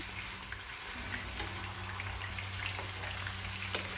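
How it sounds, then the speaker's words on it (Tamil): Masala-coated fish frying in a pan of oil: a steady, dense sizzle that holds evenly throughout, with occasional small pops and crackles standing out close by. "இப்போ ஒரு நாலு மீன் அளவு பொறிச்சுக்கிறேன்"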